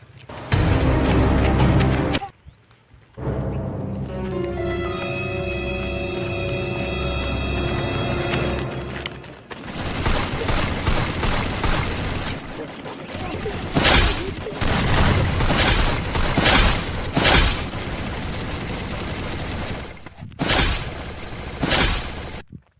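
Loud bursts of Free Fire gunfire and booming blasts, with a stretch of electronic tones early on and rapid crackling shots later.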